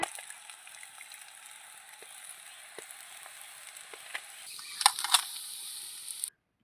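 Kashmiri-style fish pieces fry in hot oil, giving a soft, steady sizzle with a few louder crackles and pops near the end before it cuts off.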